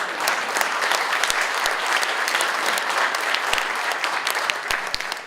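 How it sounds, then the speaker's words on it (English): An audience applauds a speech by Tulsi Gabbard, U.S. Representative from Hawaii, with sustained, dense clapping from many hands and occasional sharper individual claps standing out near the front. "I think that deserves some applause"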